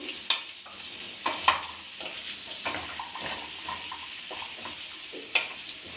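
A chilukada dhumpa curry is stirred in a pot over a low flame, giving a soft, steady sizzle with a few sharper scrapes of the spoon against the pan, close up, with no voices.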